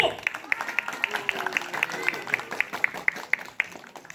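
Audience at a Yangju Hyanggyo traditional civil-exam event claps in a fast, even rhythm for a pastor called to the front, the steady beats continuing for several seconds with a murmur of voices underneath.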